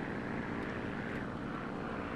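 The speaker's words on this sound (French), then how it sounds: "Il y a un avion pas loin." Steady, continuous drone of a nearby propeller aircraft engine in the War Thunder combat flight game, a broad even roar holding at constant loudness throughout with no voices.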